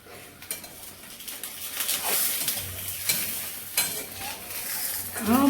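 Omelette sizzling in a pan, with bursts of frying hiss and scraping and stirring clatter of a utensil against the pan, fairly close.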